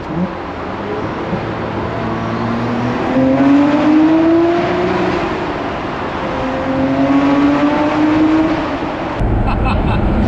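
A Nissan Skyline R34 GTR engine rises and falls through loud revving runs heard from inside the car, ending in an abrupt cut, with excited voices talking over it.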